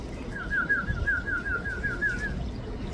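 Birds fly down outdoors to pick at feed, with a rapid, warbling series of chirping notes lasting about two seconds and soft fluttering over a steady background rush.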